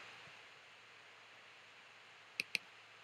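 Two crisp mouse clicks in quick succession near the end, close and distinct over a faint steady hiss of background noise.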